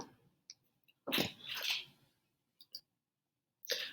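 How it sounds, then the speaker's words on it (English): A single sharp sneeze bursts out, followed by a few faint clicks and a short breathy sound near the end; no talking. "Sorry, I had to sneeze."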